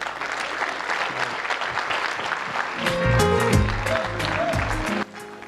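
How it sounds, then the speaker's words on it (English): Wedding guests applaud the bride's parents, a full, continuous burst of clapping from a large room that swells midway with some low music or murmur beneath before cutting off abruptly near the end. "A round of applause, ladies and gentlemen, for the bride's parents."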